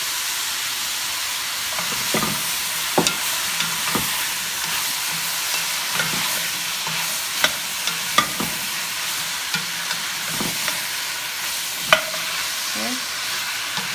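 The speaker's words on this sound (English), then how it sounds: "now I'm going to go ahead and add all my potatoes" Potatoes dropped into a hot pot for purple sweet potato soup, with a steady sizzling hiss throughout and scattered stirring clicks and knocks, close and alone without talk.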